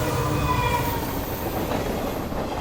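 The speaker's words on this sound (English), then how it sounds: "their train clattered down the tracks with all its horsepower" Train rolling along the tracks with a steady, continuous rumble and faint high squealing tones, loud and close throughout, no voices.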